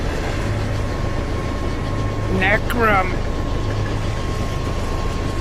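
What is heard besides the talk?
train rumbling along tracks in video game Oddworld Soulstorm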